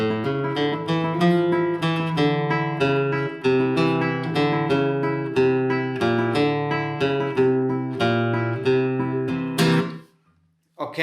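Flamenco guitar plays a bass melody with the thumb under quick repeated index-finger accompaniment on the upper strings, steady and bright, stopping abruptly near the end.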